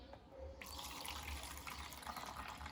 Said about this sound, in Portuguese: eu vou colocar água aqui nos compartimentos para demonstrar para vocês a forma correta de utilizar o nosso tanque